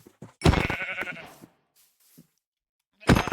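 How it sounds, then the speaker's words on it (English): A loud, raspy bleat from a sheep opens abruptly and trails off over about a second, followed by quiet, then another loud burst starts right at the end. "Oh, sheep."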